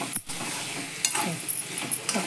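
Raw banana vegetable being stirred in a pan with gentle sizzling, close and fairly soft, with a few scraping stirs and no talking.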